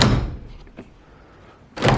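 A door is pushed shut with a firm thunk near the start, a soft knock follows mid-way, and a second solid thud comes as it is handled again at the end, all close by in a quiet room.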